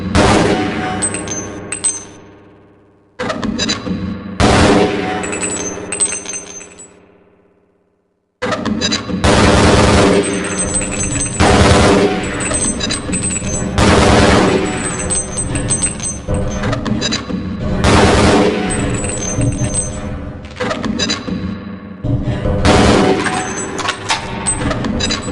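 Grenade launcher blasts and clanging weapon sounds ring out in the Half-Life hazard course, loud bursts of game audio with a brief drop to silence partway through.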